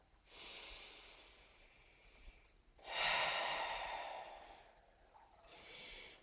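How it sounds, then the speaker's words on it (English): Two long, deep breaths at the close of a gentle exercise flow, each a slow airy inhale and exhale heard up close in a quiet room. "take a nice deep breath."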